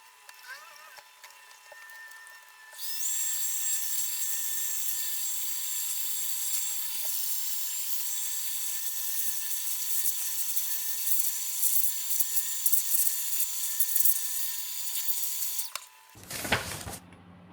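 A compressed-air blower hisses steadily while cleaning oiled variable capacitor blades of a 1969 Mivar Trafem B radio, a continuous bright rush lasting about thirteen seconds before cutting off, followed by a brief clatter.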